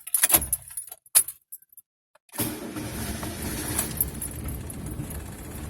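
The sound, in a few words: car engine starting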